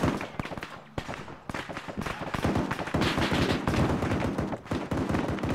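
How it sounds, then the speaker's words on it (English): A vehicle turret in the military video game Arma firing rapid bursts, dense cracking shots in quick succession with brief gaps, loud and close. "Turret, open fire directly ahead of us."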